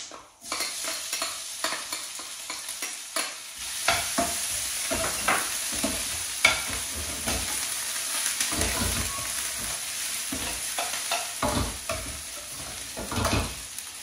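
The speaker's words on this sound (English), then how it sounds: "So what we're going to do is add in our onions" Onions and peppers fry and sizzle in a pan for a chicken bhuna, with steady crackling and intermittent louder bursts of stirring and scraping, close up and without talk.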